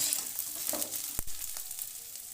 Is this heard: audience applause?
no